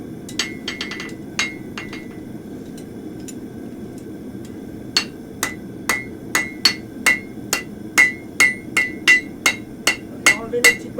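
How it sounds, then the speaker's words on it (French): Hammer blows ringing on the horn of a blacksmith's anvil while forging a hoof pick, a few scattered strikes followed by a steady run of sharp, bright metallic hits, close and loud. "je tape sur la bigorne de l'enclume de manière à faire fuir la matière vers l'avant"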